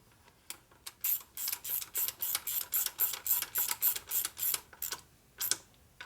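A bolt tightened into the motor case of a 1972 Harley Sportster Ironhead: a close, steady run of about fifteen even ratcheting clicks, fairly quiet, with no voices.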